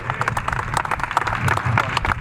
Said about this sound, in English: You ought to clap your hands.